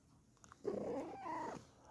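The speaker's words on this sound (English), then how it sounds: "it's just my cat if you were wondering what that noise was." A brief cat vocalization, a low growly meow rising and falling over about a second, faint and close.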